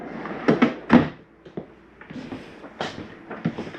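Cabinet doors and drawers in a 2021 Mesa Ridge 323RLS RV are shut one after another, giving several close, sharp knocks and thuds with quiet handling noise in between.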